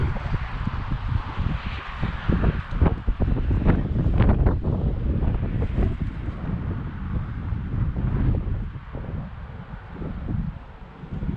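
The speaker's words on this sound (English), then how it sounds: "It's pretty windy," Heavy wind buffeting the microphone beside a highway at a historic cemetery, loud and continuous rumbling gusts with no voices.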